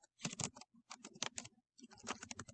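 Quick bursts of clicky computer-keyboard typing come in three clusters separated by short pauses, close and fairly quiet.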